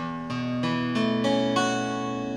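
A guitar in drop D tuning with a capo has its strings plucked one after another in a quick rising sequence, each note ringing on to build a sustained open chord, close and clear.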